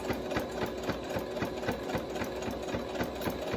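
Sewing machine stitching a fabric face mask, a fast steady mechanical chatter of needle strokes running continuously at close range, with no voices.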